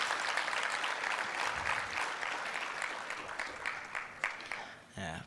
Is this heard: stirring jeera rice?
no